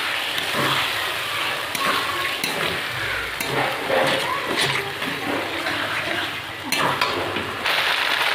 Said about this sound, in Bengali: মাংসটাকে ভালো করে কষিয়ে নেব।